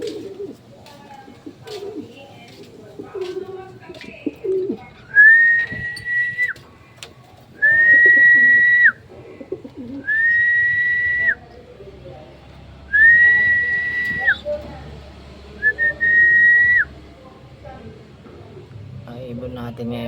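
A red bar pigeon and a blue bar hen coo in a series of about five drawn-out, whistling calls, close and fairly loud, with short gaps between them and quieter rustling and a voice in the background.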